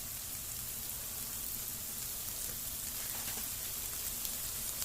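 Eggplant sautéing in a pan with salt and turmeric gives a steady, dense sizzle that holds at an even level throughout, with no voices.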